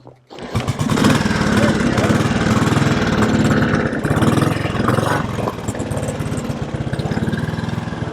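A 1957 Royal Enfield Bullet 500 in excellent condition fires up and runs loud and close, its thumping engine rumbling and revving steadily while a voice calls out briefly over it.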